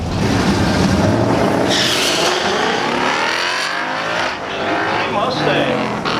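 Modified Mercedes E55 AMG launching hard at a quarter-mile drag strip, a loud, steady engine roar with tire noise filling the whole stretch, close by, with voices talking over it.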